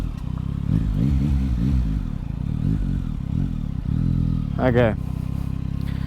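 A Yamaha MT09 motorcycle pulls hard from a standstill in a 0 to 100 run, engine rising in short bursts through quick gear changes, close and loud under wind, with a brief spoken word.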